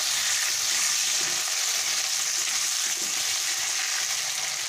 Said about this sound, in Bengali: আলুতে আমি একটু লবণ আর একটু হলুদ দিয়ে এটাকে আমি প্রথমে ভালো করে ভেজে নেব।